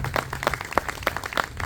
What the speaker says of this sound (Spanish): les pido un fuerte aplauso para recordarlo a él en este día tan especial